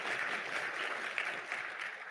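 An audience at a Chamber of Commerce parliamentary luncheon claps in a steady, dense round of applause that holds evenly throughout.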